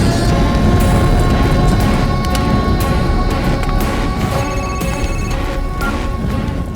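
A telephone rings steadily through loud, dense background noise, its tone persisting for several seconds.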